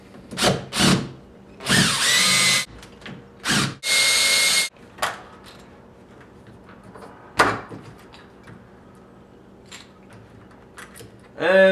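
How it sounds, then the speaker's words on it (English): Power drill backing out door knob, deadbolt and catch screws, giving short loud whirring bursts separated by pauses, with light clicks and handling noises of the hardware afterward. "So we're going to take out the catch screws. Pull off the knob and deadbolt screws."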